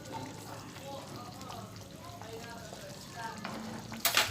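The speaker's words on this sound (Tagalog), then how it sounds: "Yan guys, kumukulo na." Sweet and sour sauce for yellowfin tuna bubbles and sizzles in a pan with light stirring noises, then a louder hiss at the very end.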